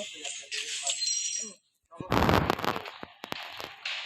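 Turret gunfire in the mobile MOBA Arena of Valor (ROV) comes as a burst of sharp, crackling blasts and a rapid cluster of impacts, with a short silent gap before it and busy game effects and voices around it.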